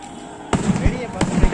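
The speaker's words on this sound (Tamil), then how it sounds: "வான வேடிக்கைலாம் வெடிச்சிருந்தாங்க ஃப்ரெண்ட்ஸ்." Fireworks go off at night outside Thiruchendur temple, two sharp, loud bangs about half a second apart, each followed by crackling rumble, with a voice faintly audible in the background.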